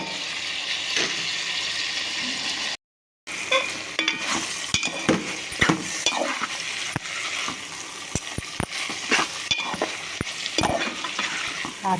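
A steel spatula stirs broad bean curry with onion, salt and turmeric in a pan, giving repeated sharp metallic scrapes and knocks over a steady sizzle, with a brief silent gap early on.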